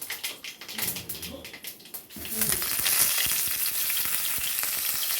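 Mustard seeds pop in hot oil, then a handful of curry leaves hits the pan and sets off a loud, close sizzle that swells and carries on steadily in a Kerala home kitchen.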